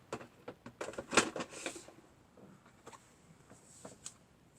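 Quick crisp snips of scissors cutting paper, a rapid run of small clicks and rustles close up, with no talking.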